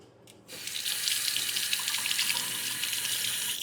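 Tap water runs steadily from a faucet to wet a badger shaving brush during a wet shave, a continuous close hiss that starts abruptly after a brief quiet moment and carries on alone.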